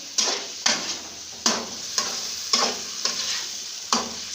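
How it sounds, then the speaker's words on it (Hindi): A spoon stirs chicken macaroni with ketchup in a sizzling pan, producing a regular series of scraping strokes and light knocks against the metal, roughly one every half second, over a steady frying hiss. "अब हम इसको मिक्स करेंगे"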